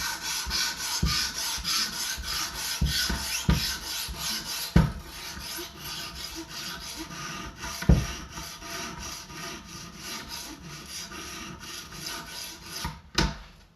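Blade of a vintage carbon steel knife being sharpened, repeated close scraping strokes in an uneven rhythm, broken by a few sharp knocks, with no voices.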